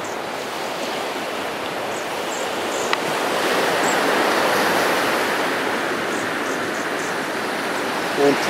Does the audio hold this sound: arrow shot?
no